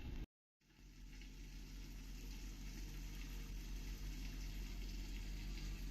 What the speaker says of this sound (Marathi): आता यातलं हे सगळं पाणी आपण चाळणीवर काढून घेऊया